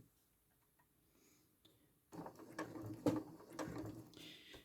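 Sewing machine stitching a sunflower appliqué, a few faint single stitches, then a short run of soft clicking needle strokes and mechanical taps, close and quiet.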